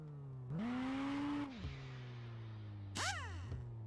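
Engine of a virtual car in a Unity vehicle physics game demo (NWH Vehicle Physics 2), driving through a repair zone: a steady synthetic engine drone that revs up, settles, then briefly swoops up again with no voices.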